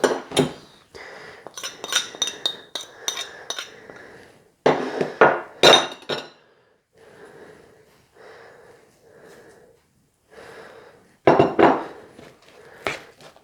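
Chickpea and sweet potato burger mixture being stirred in a bowl, with bursts of spoon clinks and scraping against the bowl between quieter pauses and soft mushy mixing sounds.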